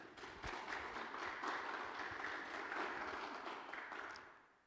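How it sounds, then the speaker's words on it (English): Audience applause for a panel of experts at a National Heritage Month 2025 heritage discussion: a full, steady round of clapping from a crowd, moderately distant and fairly quiet, sustained evenly before tapering off at the end. "Let's give a round of applause"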